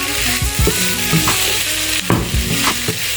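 Food for prawn rice sizzles steadily in a hot pan while a utensil scrapes and stirs in repeated strokes, close up with no talking.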